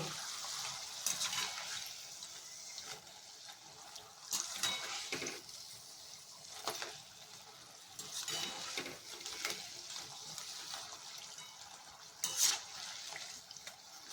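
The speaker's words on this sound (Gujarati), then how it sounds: "તો ક્રિસ્પી થાય ત્યાં સુધી તમારે અહીંયા સરસ તળી લેવાનું છે." A tomato snack fries in hot oil, a steady crackling sizzle running throughout with occasional louder bursts of spitting and a few clinks, close and with no talking.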